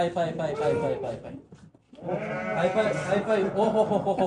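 Sheep and lambs bleat repeatedly in wavering calls at a livestock market, close and fairly loud, with a brief lull midway before the bleating resumes.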